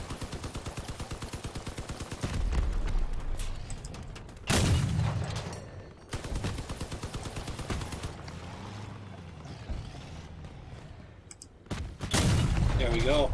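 88mm cannon on a truck build in the Crossout vehicle combat game, heavy booming shots in several bursts amid continuous engine and battle noise, loud and close, with a voice talking over parts.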